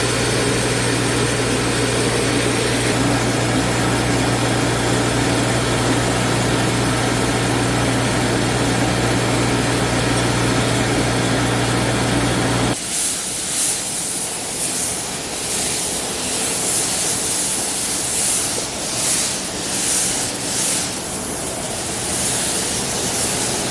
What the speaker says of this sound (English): So I'm just going to clean them up on the wire wheel.